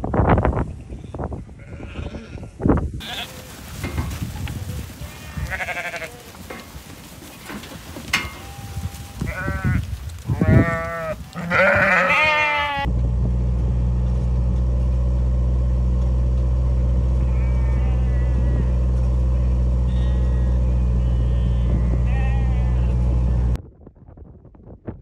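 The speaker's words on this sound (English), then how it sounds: "we're just about to go and let the sheep up into another field" Sheep bleating repeatedly as a flock is moved up into another field on a windy farm, calls near and far overlapping, followed by a long stretch of steady low engine drone, likely a farm vehicle.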